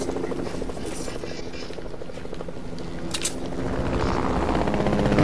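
A Fortnite helicopter whirs with a continuous rotor chop that grows louder toward the end, while faint voices and game sounds sit beneath it.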